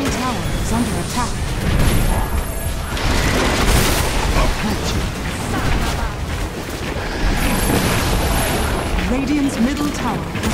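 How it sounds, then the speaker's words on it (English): Dota 2 match audio with a mid-lane tower under siege: dense, continuous booms and impact crashes rumble throughout, mixed with battle noise and voices, loud and busy with no clear single collapse. "Radiant's middle tower has fallen."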